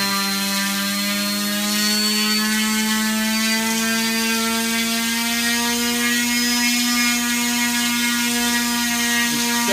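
An electric motor drives a propeller on a thrust tester at about 7,000 RPM, giving a loud, steady whine with a strong harmonic hum that holds constant and slightly rises, with no speech.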